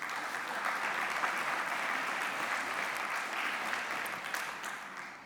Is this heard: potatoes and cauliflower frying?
no